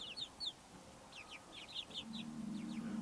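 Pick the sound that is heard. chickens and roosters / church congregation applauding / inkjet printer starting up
chickens and roosters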